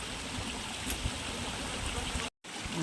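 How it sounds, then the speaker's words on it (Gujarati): A small mountain stream on Girnar near Junagadh, beside the old stone stairway, gives a steady close rushing and gurgling wash that barely changes, broken only by a brief cut near the end. "અહીંયા એક ઝરણું મળી ગયું છે અમને"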